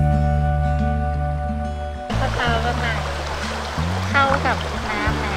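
A gentle forest stream runs over rocks, a steady rushing wash that swells in after a moment, partly masked by background music and some speech.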